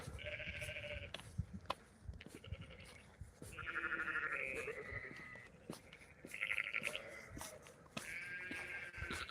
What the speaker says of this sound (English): I'm currently walking past the sheep field, so there's a lot of sheep making a lot of noise next to me